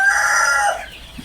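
On a chicken farm, a rooster gives a loud, close crow that trails off, with chicken clucking nearby.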